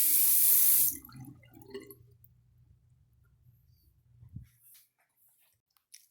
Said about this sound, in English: If you hear something in the background, it's water running.